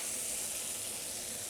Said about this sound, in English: The more sizzle, the faster the pan.